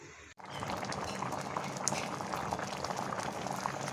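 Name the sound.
mangoes boiling in a pot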